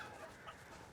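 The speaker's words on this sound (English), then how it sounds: "Chickens." Chickens cluck softly in the video game Resident Evil Village, a brief, faint burst of fowl clucking over a low ambient background.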